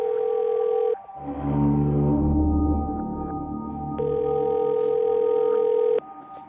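An unanswered phone call rings through an earpiece as steady electronic tones: one burst, a droning tonal passage, then a second long burst that cuts off.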